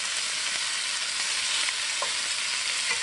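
Beef seared in a pan over high heat gives off a loud, continuous sizzle and hiss that stays even throughout, with a few faint pops.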